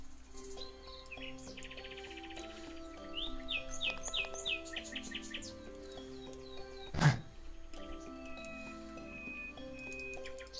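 Varied bird chirps and tweets in the game Golf With Your Friends repeat in short trills and whistles over a quiet backdrop, with one brief loud thump partway through.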